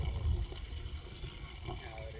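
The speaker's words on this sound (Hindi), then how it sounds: "ऐसे आपको 5 लीटर पानी एक गड्ढे में डालना है, जो कि बहुत गर्म होना चाहिए" Hot water gushes into a planting pit dug for a mahogany sapling, a continuous rushing pour heard close by while someone talks over it.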